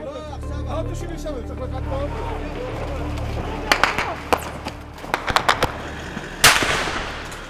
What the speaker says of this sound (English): there's a lot of firing going on